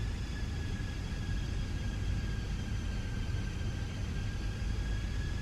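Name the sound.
airplane engine in Fenix A320 flight simulator video game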